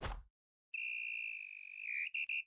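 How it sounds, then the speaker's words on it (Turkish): A shrill video-game referee's final whistle blows one long sustained blast, then two quick short toots, clear and alone against silence. "Ve son düdük."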